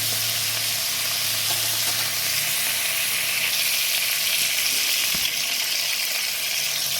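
Sea crabs frying in hot oil, a loud continuous sizzle with crackling and spattering throughout, no voices.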